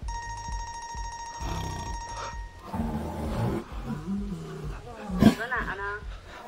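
Tigers give low, rough roars in a comedy film scene, several swelling bursts with one loud peak near the end, mixed with a ringing phone tone and people talking nearby.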